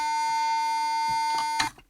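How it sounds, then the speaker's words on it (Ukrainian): A continuous electronic oil pressure warning buzzer on a YuMZ-8271 tractor drones at a steady pitch for well over a second, then cuts off after a few faint clicks. "Включаю, вона загорілась і з ним паралельно включений зумер."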